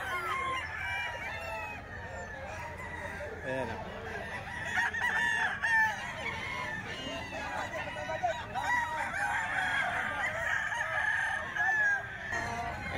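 Chickens at a Gilmore gamefowl hatchery cluck steadily and a rooster crows repeatedly under the hum of the yard, while someone talks briefly.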